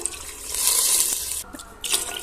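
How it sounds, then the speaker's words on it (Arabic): Cups of water are poured onto toasted vermicelli in a cooking pot for a creamy milk dessert, a splashing pour, a short break, then another pour, close and fairly loud. "هنزل عليها بالمية، اول كوباية مية، تاني كوباية مية، التالتة"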